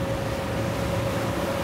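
Steady outboard motor drone on a catamaran boat turning, with a constant pitched whine over rushing water and wind, loud and unbroken.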